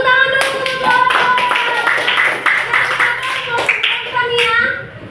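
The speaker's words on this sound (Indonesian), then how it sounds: "Tepuk tangan dulu untuk kelompok." A classroom of students claps together for a group, a dense burst of applause mixed with children's voices and chatter.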